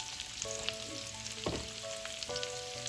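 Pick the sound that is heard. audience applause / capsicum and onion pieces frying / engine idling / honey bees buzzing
capsicum and onion pieces frying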